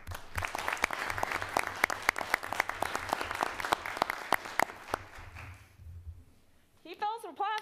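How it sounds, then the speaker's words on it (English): A school board meeting audience claps for an honoree, brisk scattered applause with sharp individual claps for about five seconds before fading, then a person speaks near the end. "Keep those applause going."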